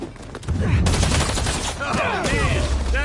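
Rapid gunfire in a Spider-Man video game crackles continuously at close range while voices talk over the shooting.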